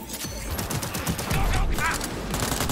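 Rapid automatic gunfire in the video game Cyberpunk 2077, loud dense bursts of shots packed close together with someone talking over the shooting.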